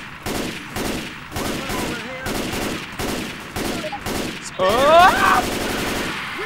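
Rapid automatic gunfire in the video game Left 4 Dead 2, with repeated bursts of shots throughout, joined by a loud burst of game effects near the end and a brief voice exclaiming.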